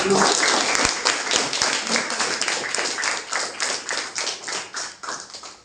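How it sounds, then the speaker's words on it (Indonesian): A classroom of students claps in a quick, even rhythm for a presenting group, each clap distinct and close, carrying steadily for about five seconds. "Beri tepuk tangan untuk kelompok 5."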